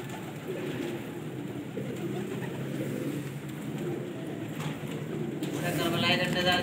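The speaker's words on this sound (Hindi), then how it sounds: "VIP कबूतर है।" Pigeons coo softly in a pigeon loft shed in Pakistan while someone talks over them, with some shuffling and rustling around.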